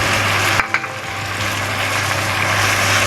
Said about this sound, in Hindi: टमाटर भी ना ऑयल में बड़े अच्छे फ्राई हो जाते हैं